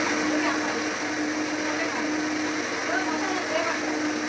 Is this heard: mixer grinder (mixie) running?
yes